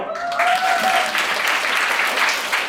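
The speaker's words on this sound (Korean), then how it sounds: "박수 한번 주세요." A camp concert audience breaks into loud, sustained applause, a thick wash of many hands clapping together, with a brief thin whistle-like tone at the start.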